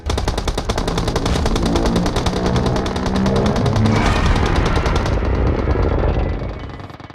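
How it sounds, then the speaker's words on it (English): Automatic rifles in PUBG Mobile fire continuously at Godzilla from around seven players, a dense, loud, overlapping rattle of rapid shots that thins out and fades near the end. "So we have here about 7 players continuously shooting at Godzilla"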